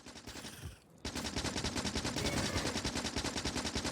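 Rapid automatic gunfire from the video game Factorio, a steady rattling burst running loud and continuous after a brief pause near the start, with no talking.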